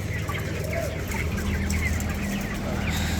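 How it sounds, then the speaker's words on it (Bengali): Chickens in a controlled-shed poultry farm, a dense flock clucking and murmuring continuously at moderate distance, with scattered higher calls over a steady background hum. "মুরগি এখানে মুরগি"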